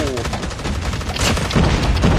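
Gunfire and grenade blasts in Call of Duty Mobile zombie mode: dense, continuous loud shooting with a burst of explosion noise partway through, all close and unbroken.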